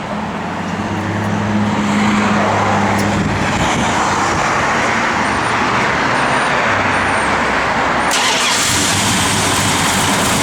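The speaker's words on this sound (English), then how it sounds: "When you fire this thing up, I think you guys will like the way this thing sounds." A 1969 Plymouth Road Runner is started up close: a brief crank, then the engine catches and settles into a loud, steady rumbling idle with no voices.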